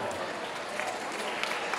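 An indoor crowd claps for rhythmic gymnasts at an April 2017 competition in Falconara Marittima, a dense, continuous wash of applause that stays steady throughout.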